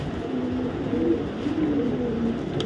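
A racing pigeon from a club loft coos softly in a steady, low bubbling murmur, with repeated throaty phrases close by under faint background noise.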